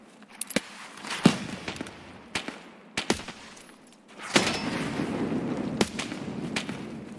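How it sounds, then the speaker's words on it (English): A grenade goes off in the video game Escape from Tarkov, bursting loudly near the middle of the clip into a sustained rumble, while sharp gunshots crack before and after it. "I'm gonna lob a grenade"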